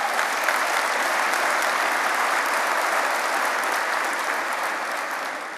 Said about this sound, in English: I was hoping you'd clap for that.